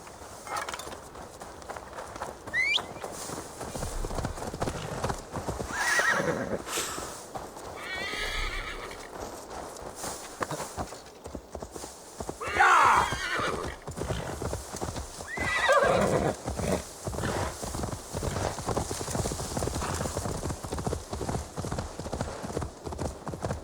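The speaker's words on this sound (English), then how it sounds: "Now to deliver Magni his horse." Horse in the video game Assassin's Creed Valhalla, hooves clip-clopping in a steady gait over much of the stretch, with several loud whinnies rising above them and faint game speech now and then.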